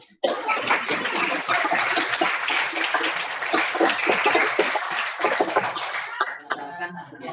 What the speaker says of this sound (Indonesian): Oke, tepuk tangan tuh.